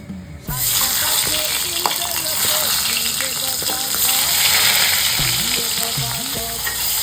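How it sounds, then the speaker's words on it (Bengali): Hilsa fish heads sizzling in hot oil in a Bengali home kitchen, a loud, steady frying hiss with sharp crackles and stirring clatter throughout, no talk. "তেল গরম হয়ে গেছে, প্রথমে ইলিশ মাছের মাথাগুলো ভেজে নিচ্ছি"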